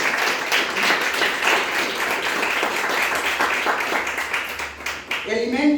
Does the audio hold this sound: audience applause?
yes